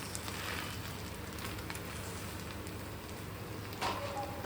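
Malvani ghavan batter with filling sizzles in a pan, a soft continuous crackling fry heard alone and fairly close, with a brief scrape near the end.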